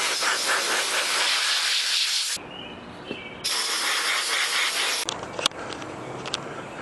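Compressed air from a blowgun blasts over small parts of a plastic lawnmower carburetor in loud, broadband hissing bursts: a long blast, a pause, then a second blast and a few brief puffs, with no talking.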